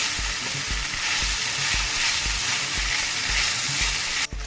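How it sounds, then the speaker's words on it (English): Potatoes, onion and green chilies fry loudly in a pan with a constant close sizzle, punctuated by regular rhythmic knocks of a spoon stirring against the pan. "Next we mix all these ingredients together with the onion and the green chilies that is already cooked in the"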